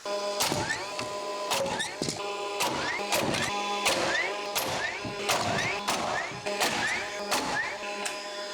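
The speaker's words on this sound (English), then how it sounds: "We're gonna shoot 2 nails on top of the plate to the stud." A nail gun drives nails through a wall plate into a stud during wall framing: a string of sharp, loud pneumatic bangs at a quick, uneven rhythm over a steady mechanical hum.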